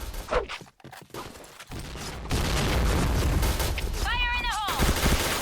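Loud, sustained gunfire from a shotgun and blasts in Point Blank fill the scene in dense bursts, with a brief high whine near the end.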